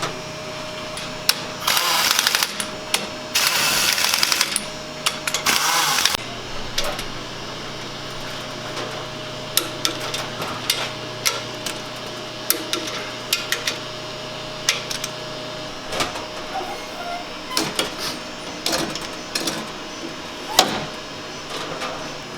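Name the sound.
cylinder boring machine running on an engine block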